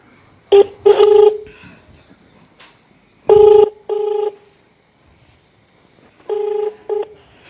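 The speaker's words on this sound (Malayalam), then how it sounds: "ഇപ്പം ഏതായാലും ഞാനൊന്ന് വിളിച്ചു നോക്കട്ടെ" Telephone keypad tones sound as a caller dials, with short beeping pairs in three separated clusters, close and clear against a quiet room.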